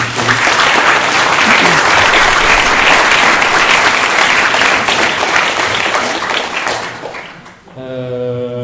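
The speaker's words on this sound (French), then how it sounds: "Je pense qu'on peut l'applaudir pour cette première partie." Audience applause after the first part of a talk on ecology and anarchist thought, a dense, loud wash of clapping for about seven seconds that thins out, followed by a voice starting to speak.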